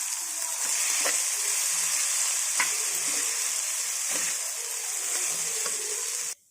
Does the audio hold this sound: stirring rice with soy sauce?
yes